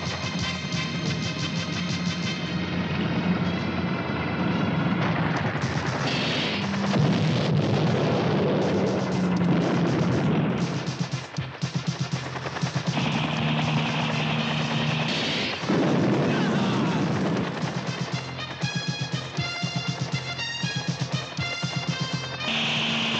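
Gunfire and explosions fill a battle scene in the 1988 war action film The Firing Line, a dense, loud, continuous barrage of blasts, crashes and shots with no clear talking.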